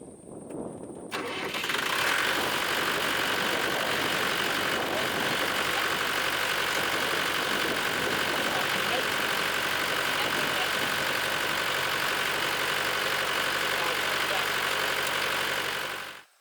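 A tractor engine starts and then runs steadily at idle, a loud, constant rumble close by that continues unchanged for the rest of the clip.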